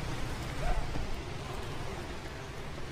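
Light rain falling on a road in Da Nang, Vietnam, a steady soft hiss of drops on wet pavement with a low rumbling background, even and continuous throughout without talk.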